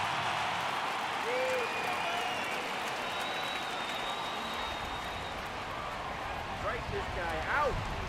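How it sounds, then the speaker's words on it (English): Baseball stadium crowd in MLB The Show 18 rising in a steady cheering roar as the count goes full at 3-2, a broad sustained wash of noise with faint whistles, under a commentator talking. "Crowd gets up for the 3-2."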